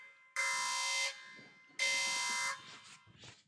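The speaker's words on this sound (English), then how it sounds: "Sound the alarm." An alarm sound effect blares in two long, loud buzzing blasts separated by a short gap, harsh and electronic, followed by scattered softer noises.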